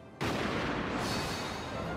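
A single heavy gunfire blast opens a battle in the Nobunaga's Ambition Shinsei strategy game at Sekigahara, a sudden loud burst that lingers as a broad rumbling wash.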